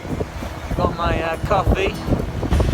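Steady wind rush and low rumble on open water, with someone speaking briefly over it.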